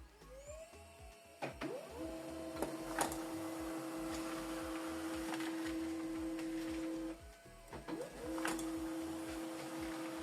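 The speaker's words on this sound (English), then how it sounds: "So it's printing out network information." HP LaserJet M107W printer printing a network configuration report: a close mechanical whir with a steady high motor tone, clicks and paper-feed rattles, the tone cutting out briefly and resuming, with no talk.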